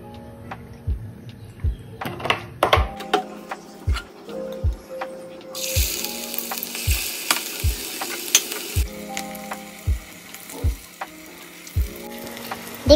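Aloo tikki fry in oil in a pan, a steady close sizzle with regular rhythmic thumps throughout and a brief hissing surge in the middle.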